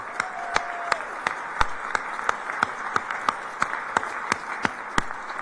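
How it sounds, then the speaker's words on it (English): Audience applause at a ribbon-cutting ceremony for a new VA health care center in Fredericksburg, a steady wash of clapping from a sizable crowd with a few sharp, close claps standing out, continuous for several seconds. "please stand up so folks can give you all a round of applause"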